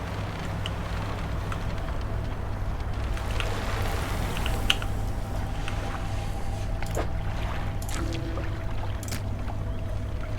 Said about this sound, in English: The waves lap up to the platform where you laid the apparition.